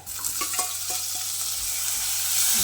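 Tomatoes hit a pan of browned onion and garlic, frying with a bright crackling sizzle and scraping stirs that swell louder toward the end.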